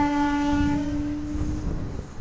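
A train arriving at a station sounds a long, steady horn blast over a deep rolling rumble of the wagons, close and loud, with the horn fading as the rumble continues.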